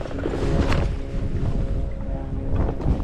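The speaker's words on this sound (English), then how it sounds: "Too much wind." Wind buffets a fishing boat on the South Delta as a steady, close, rumbling roar of microphone gusts, continuous for the whole stretch with no talk.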